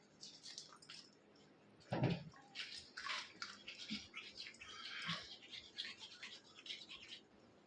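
A cat grooming itself makes soft, rapid scratchy rasping like a brush, in short irregular bursts, close and faint, with no talking.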